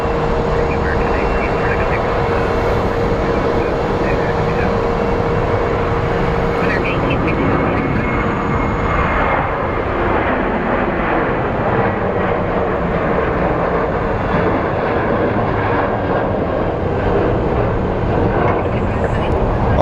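Aircraft at Phoenix Sky Harbor International Airport give a continuous loud engine roar that swells and fades over about twenty seconds, with a voice talking over it.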